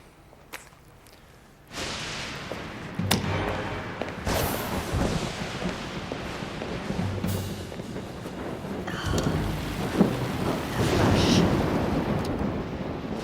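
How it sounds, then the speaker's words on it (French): Thunderstorm in a French horror thriller: sharp thunder cracks over steady heavy rain that swells louder toward the end, a loud storm wash after a quiet opening. "Quelle tempête!"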